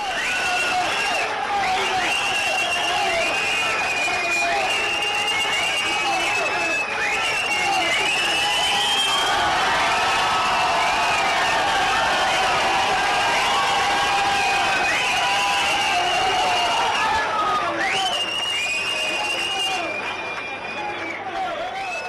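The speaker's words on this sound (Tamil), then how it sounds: "அப்போது கூடியிருந்த தொண்டர்கள் உற்சாகமாக கைத்தட்டி ஆரவாரம் செய்தனர்." Party volunteers of Tamilaga Vettri Kazhagam clap and cheer at a flag hoisting, a dense, sustained crowd roar with whistles and shouts running continuously before easing near the end.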